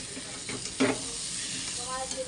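Gravy cooking in a pan, a steady hiss of sizzling with a brief louder stir-like scrape near the start, close and continuous throughout.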